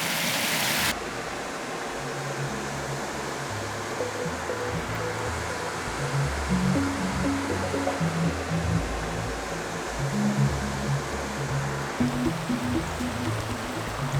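Whitewater rushing over a waterfall, a loud continuous broadband roar of falling water, steady and close throughout.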